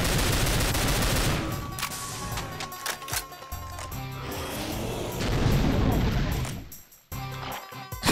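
Rapid bursts of gunfire in Complex Doom crackle and boom in quick volleys, loud and dense, with brief pauses between clusters of shots.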